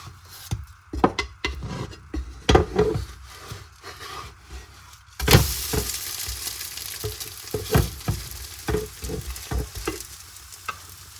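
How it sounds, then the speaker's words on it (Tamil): Egg dosa batter fries on a hot griddle, a steady sizzle running throughout with scraping and rubbing strokes of a spatula, growing louder and brighter halfway through as more batter hits the surface, no talking. "இது ஒரு முட்டை தோசையாக சுட்டெடுக்க போகிறேன்"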